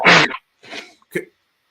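A single loud, close sneeze bursts out, followed by two quieter short vocal sounds, with brief silences between them and no talk.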